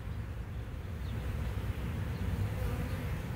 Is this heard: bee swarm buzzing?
yes